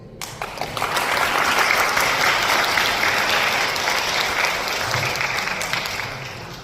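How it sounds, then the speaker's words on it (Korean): A wedding crowd applauds for the bride and groom, a dense, steady roar of clapping that swells in quickly and holds for several seconds before easing slightly near the end. "신랑 신부를 위해 큰 박수 부탁드리겠습니다"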